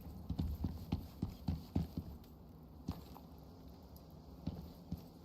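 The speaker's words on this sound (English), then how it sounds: "Got a horse there, but that's not what we're looking for." Horse hooves clip-clop in the survival video game Icarus, a steady walking rhythm of soft thuds over a quiet outdoor ambience with no talk.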